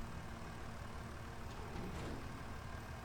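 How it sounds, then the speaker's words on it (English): Steady engine drone of a small tractor pulling a plough in the farming game Farming Simulator 25, a constant rumble held at an even level with no speech. "that little tractor running on a plough"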